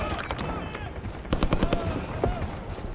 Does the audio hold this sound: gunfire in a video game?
yes